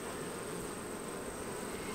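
Honey bees buzzing inside an opened hive during a summer inspection, with emerging bees crawling out of brood frames; a steady, dense hum fills the air continuously, fairly quiet and close, with no talking.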